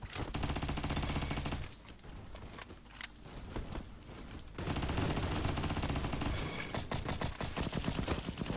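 Rapid automatic gunfire from the Roblox shooter Bad Business comes in long, dense bursts, loud and close, with a brief lull midway before the firing resumes heavily.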